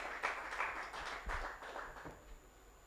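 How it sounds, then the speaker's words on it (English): An audience at a HealthTech Africa summit panel claps for a panelist, a brief, soft patter of scattered hand claps heard from a distance in a large room. "A round of applause as he makes his way to the front."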